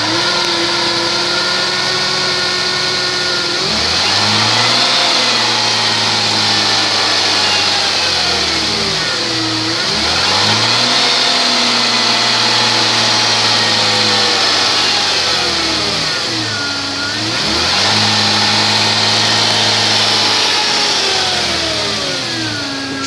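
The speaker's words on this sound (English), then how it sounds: "engine run video" A 2004 Jeep Grand Cherokee engine with a bad transmission runs on a stand, revving up three times in long sweeping rises and falls between steady idle, loud and close with no voices.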